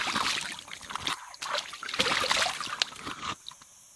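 Water trickles and splashes in a clear forest stream with rotten leaves, an irregular close burbling with short pauses, heard without talk.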